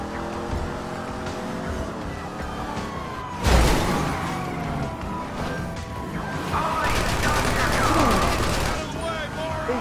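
Video game gunfire crackles in bursts amid engine roar and sirens, with a loud blast midway and rapid shots later; a voice talks over it.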